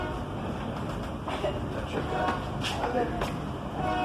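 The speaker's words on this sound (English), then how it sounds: "this is what it's like to ride on the Sam Shortline" Inside a SAM Shortline passenger car at Cordele Railfest 2023, pulled by a GP40 locomotive, a steady loud rumble of rolling wheels with faint rhythmic clickety-clack over rail joints and some talk in the background.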